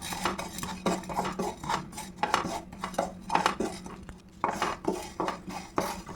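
White sesame seeds and a curry leaf stem frying in a pan, stirred with a utensil that scrapes and clinks in quick irregular strokes over a light sizzling hiss.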